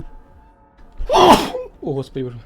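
A single sharp sneeze bursts out mid-clip, loud and close, followed by someone speaking.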